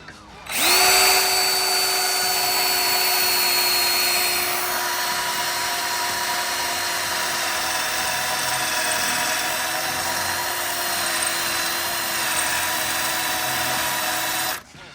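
A power drill grinds steadily through spot welds on the steel body of a 1992 Honda Civic EG, a loud, continuous high-pitched whine holding for about fourteen seconds with a slight pitch dip midway, with no talking.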